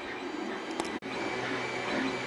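A Creality CR-2020 3D printer runs a print with a steady mechanical hum and faint whirring, a brief click partway through, heard alone at close range.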